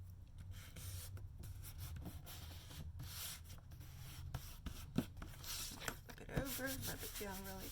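Someone rubs firmly across a journal page, producing a steady close scratchy friction over a low background hum, with a few sharper taps and a brief voice near the end.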